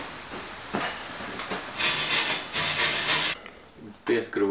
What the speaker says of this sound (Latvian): piezāģēsim šās te OSB plāksnes tā, lai viņas te ideāli ieiet iekšā šitajā te nišā